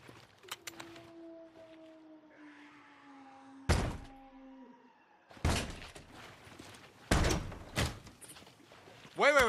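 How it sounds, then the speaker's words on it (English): A door being tried and opened: several loud handle rattles and thuds in separate bursts, with creaking tones and a long sliding scrape early on, a sharp thunk near the end, and quiet talk in between. "Try this door?"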